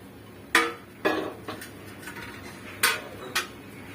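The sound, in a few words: placing a pan on the stove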